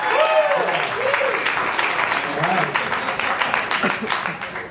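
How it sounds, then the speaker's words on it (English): Audience applause at a live science talk, steady broadband clapping throughout with cheers and voices mixed in over the crowd. "Round of applause."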